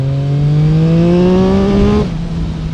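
A Yamaha MT-09 SP motorcycle accelerating hard, its loud close engine note climbing steadily in pitch for two seconds before a gear change drops the tone.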